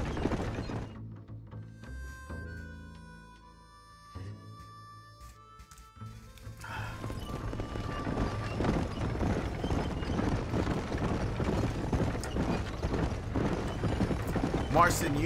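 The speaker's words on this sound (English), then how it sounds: "Oh, there's my horse." Rhythmic hoof clip-clops from a galloping horse in Red Dead Redemption build up over background game sounds and music, with a voice talking in between.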